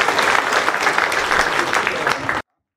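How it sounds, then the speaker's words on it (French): Applause for the mayor of Hayange at a deputy's New Year greetings event in Moselle, a dense, steady clapping from the crowd lasting a couple of seconds and then cutting off abruptly into silence. "Je vous demande de l'applaudir très fort"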